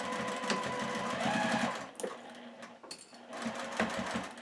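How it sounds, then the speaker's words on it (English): A sewing machine with a 90/14 needle stitches a sunglasses case, running steadily and close, then pausing briefly around a backstitch at the tab before resuming the even whirring stitch. "Sometimes I go back and back stitch right where the tab is just to give it some security right there."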